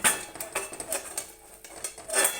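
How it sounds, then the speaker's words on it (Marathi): A metal pot lid clatters and clinks as it is lifted off dill greens cooking with matki dal, a few quick, close kitchen knocks. "चला आता ही भाजी खोलून बघूया"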